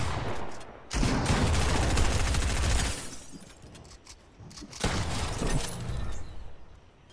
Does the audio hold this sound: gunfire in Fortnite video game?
yes